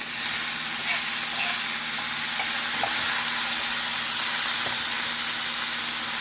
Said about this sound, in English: Make sure that these don't burn. I want them to brown, but not too much